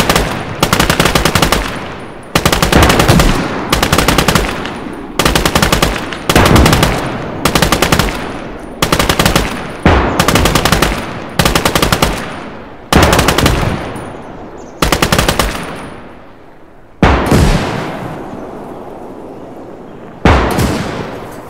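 Machine gun fire in the World War II strategy game Call to Arms Gates of Hell, loud close rapid bursts repeated about a dozen times with short pauses and echoing tails, no talk over it.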